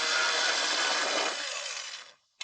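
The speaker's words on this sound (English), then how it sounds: "here removing these little screws" A power tool whirring at close range while removing small screws on a Mercedes Vito engine, a sustained buzzing run that winds down, then a brief short burst.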